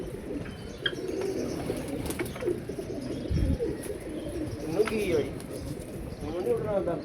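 Pigeons coo in soft repeated calls outdoors, mixed with windy background noise and brief rustling bursts, moderately close and continuous throughout.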